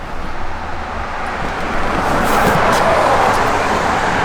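A 1972 Plymouth Duster with a B&M ratchet shifter idles and runs, its engine a steady broadband rumble that grows a little louder partway through, with no talk.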